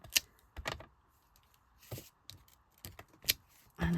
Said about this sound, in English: randomly stamping in your gaps, just to fill them up.